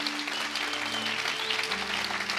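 A church congregation claps in acclaim of the Lord, a fairly faint, steady patter of applause with held musical or hummed tones underneath.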